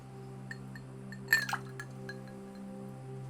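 Ice cube clinking against a glass, one brief bright clink, then a few faint smaller taps over a steady low hum, fairly quiet.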